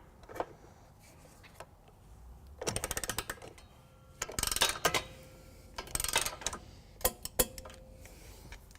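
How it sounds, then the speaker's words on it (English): A torque wrench with a 15mm socket and extension tightening a trailer hitch bolt on a 2011 Mini Cooper Countryman, heard as several separate bursts of close, rapid metallic ratcheting clicks with quiet gaps between them. "we will be torquing it to 38 foot-pounds"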